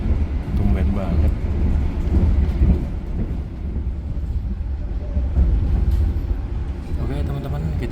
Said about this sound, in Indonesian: Kereta barang masuk jalur KRL dong.